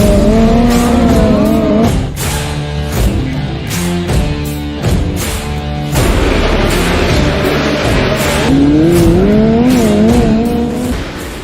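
Race cars in the iRacing sim on a dirt track, engines roaring loud and close with rising and falling revs, several cars passing in rapid bursts and tires scrabbling throughout.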